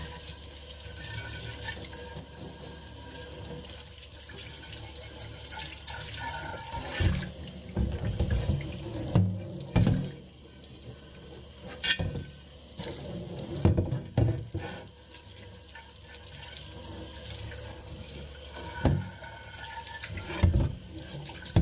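Water runs steadily from a tap while something is rinsed down with baking soda, a continuous near splashing flow with occasional louder gushes and clunks as items move under the stream.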